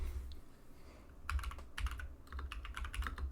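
Keystrokes on a computer keyboard while entering Linux terminal commands, a few quiet taps first, then bursts of clicks from about a second and a half onward, close and moderately loud with no talking.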